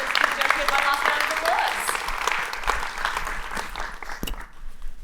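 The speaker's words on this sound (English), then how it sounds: "Let's give Joki one last round" Sustained audience applause at a university thesis presentation event, a full room of clapping that continues steadily before tapering off.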